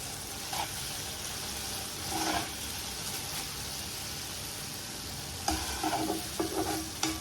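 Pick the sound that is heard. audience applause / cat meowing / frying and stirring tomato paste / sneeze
frying and stirring tomato paste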